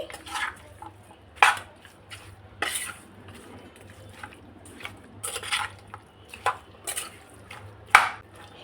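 Raw chicken is hand-mixed with salt, turmeric and oil in a bowl, producing wet, squelching bursts and occasional spoon or bowl clinks in an irregular rhythm, close and fairly quiet.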